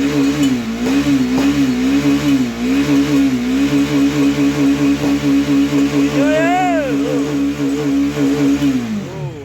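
400cc motorcycle engine revved hard over and over, the loud close pulses rising and falling in a steady rhythm before settling, with a brief voice partway through.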